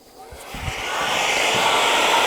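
Heat gun warming a sticker on a metal surface to loosen it, starting up and settling into a steady, loud blowing whir with an airy hiss that holds constant, with no talk over it.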